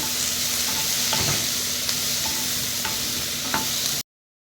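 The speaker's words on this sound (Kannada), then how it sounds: "ಇವಾಗ ಇದಕ್ಕೆ ನಾನು ಪೈನಾಪಲ್ ಹಾಕ್ತಿದ್ದೇನೆ. ಇದನ್ನು ಸ್ವಲ್ಪ ಹೊತ್ತು ಬಾಡಿಸಿದ್ರೆ ಆಯಿತು." Pineapple chunks fry with mustard seeds and curry leaves in a pan for pineapple gojju, a continuous soft sizzle broken by a few scraping stirs and light clinks of the spoon before the sound cuts off.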